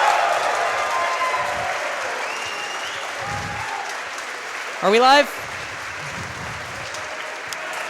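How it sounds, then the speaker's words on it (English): Live audience applause at the SGDQ 2017 speedrunning marathon, as the Tetris: The Grand Master run begins; a steady, roomy wash of clapping runs under a voice, with a brief louder burst midway. "Let's get a round of applause, not only for the Thai crew,"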